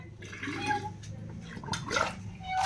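Water runs steadily into a household water container as it fills, a continuous splashing and gurgling with a few clunks, while people talk nearby.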